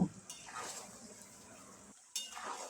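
Raw mango pickle being stirred in a pan over the stove for a sweet-and-spicy achar, a steady soft scraping and shuffling with faint sizzle, close and fairly quiet, briefly dropping out before resuming.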